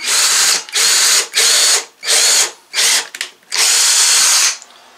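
A power drill bores through a workbench made from salvaged materials in several loud, close bursts of whining, separated by brief pauses, with one longer run before it stops.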